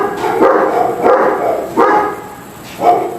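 A dog barks outside in a neighborhood, four separate loud barks spaced about a second apart, fairly close, with no talking.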